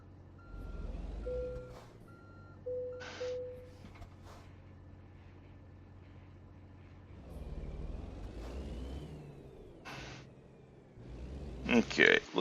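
A truck in American Truck Simulator sounds its reversing alarm, a few evenly spaced electronic beeps over a low idling engine, while someone talks through it.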